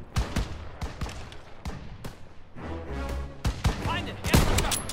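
Several sharp gunshots crack at irregular intervals, close and loud, with a few bursts bunched together and voices talking underneath, from snipers in a building in the video game Call of Duty: WWII.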